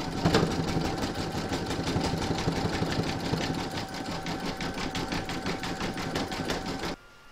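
A sewing machine running steadily for about seven seconds, zigzag-stitching around the edge of a reindeer applique's hat, with a fast, even mechanical whir and rapid needle ticks that stop abruptly near the end.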